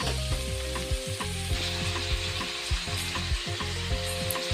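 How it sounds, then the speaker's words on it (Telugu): Tomatoes frying in a kadai give a loud, continuous close sizzle. A steady tonal hum with regular pulsing runs beneath it, and no one speaks. "తర్వాత అదే కడాయిలో టమాటోలు వేసుకొని కొంచెం మగ్గబెడదాము."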